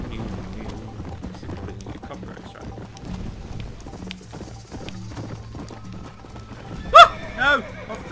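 A horse in the Red Dead Redemption video game clops along at a steady gait, with two sharp, loud whinnies near the end, all under a quiet layer of in-game background sound.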